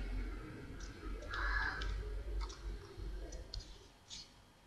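A computer mouse clicks a few times at a Windows control panel, small sharp taps spaced irregularly over a low steady background hum.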